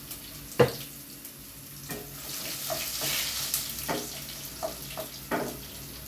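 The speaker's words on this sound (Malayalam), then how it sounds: "ഇഞ്ചി ഇടുക. അതൊന്ന് ബ്രൗൺ ആകട്ടെ. നമുക്ക് ഇളക്കി കൊടുക്കാം." Ginger browning in a pan for Bengali fish curry, soft intermittent sizzling under scraping stirs and a few sharp utensil knocks, close and fairly quiet, without talk.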